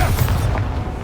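The Confringo spell going off in Hogwarts Legacy, a short, dense burst of explosive noise that fades within a second.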